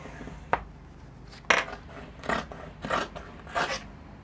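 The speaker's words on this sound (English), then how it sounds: "So I'm going to cut the band." Scissors snipping through a fabric sleeve band, five separate crisp cuts spaced about half a second apart, close and fairly quiet with no talking.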